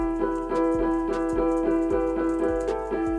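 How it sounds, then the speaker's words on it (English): Vintage retro piano tone from the Sky Keys Unpleasant Piano preset plays a short melody of evenly spaced, bright repeated notes with quick decays over a sustained pitched bed, with no voices. "I'm using Sky Keys and I'm using the preset called Unpleasant Piano."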